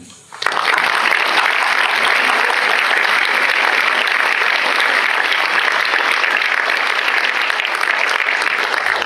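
Sustained, loud applause from a conference audience at the opening of a 2021 botanical colloquium, starting abruptly and holding a dense, even roar of many hands for the full length, with no voices over it.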